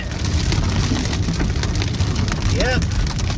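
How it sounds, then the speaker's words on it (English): Hail pelting a car windshield during a storm in the Sierra Nevada, a dense constant patter and rattle close on the glass with a low rumble underneath and a brief voice partway through. "I could hear that hail hit the windshield."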